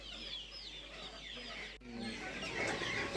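Chickens cluck and chatter at a busy traditional market in Kumbasari, with repeated short calls that grow denser and louder toward the end amid general market noise.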